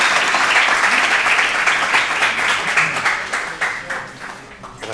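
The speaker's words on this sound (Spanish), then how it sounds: "un aplauso para David y su herramienta" Applause from the audience at a legaltech challenge event at UAX, a dense, steady clapping that holds loud and then thins out toward the end, with no voices over it.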